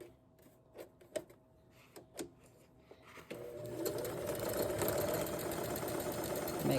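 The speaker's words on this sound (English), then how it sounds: "I'm going to sew them end to end." Sewing machine stitching fabric strips end to end for a jelly roll trivet made from pajama pants, starting with a few short separate bursts, then settling into a steady, close, continuous whir.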